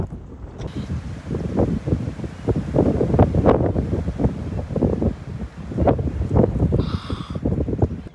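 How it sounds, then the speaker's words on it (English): Strong gusts buffet the microphone in a loud, continuous low roar that rises and falls irregularly, with no voices. "it's pretty windy right now"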